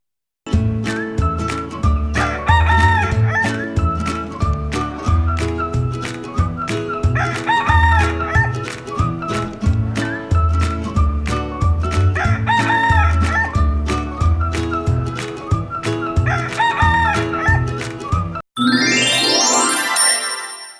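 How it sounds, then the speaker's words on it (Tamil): A rooster gives one loud, close cock-a-doodle-doo near the end. Before it, a steady rhythmic backing track with a regular beat plays throughout. "rooster crows."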